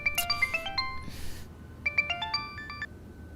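A mobile phone plays a bright, melodic ringtone for an incoming call: two quick runs of chiming notes separated by a brief hiss, heard alone at moderate volume in a quiet room.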